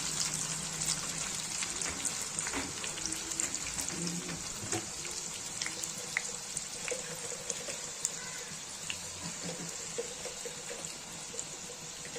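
Snake gourd chips and curry leaves fry in hot oil with a steady, dense sizzle and crackle, scattered pops and occasional stirring clinks throughout.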